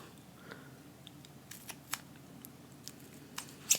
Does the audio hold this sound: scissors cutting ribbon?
yes